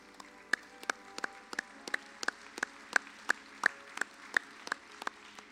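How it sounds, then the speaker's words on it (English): A single person claps slowly and steadily, about a dozen crisp, evenly spaced claps close by against a quiet room, during a state FFA convention award session. "Give our recipients one more giant round of applause"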